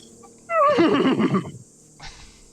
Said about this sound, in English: a horse is hit, and the horse neighs